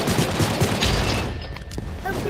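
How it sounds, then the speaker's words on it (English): Heavy video game gunfire with many bullets, a dense continuous barrage of shots close and loud, with a voice talking over it in places. "Damn it, that's a lot of bullets."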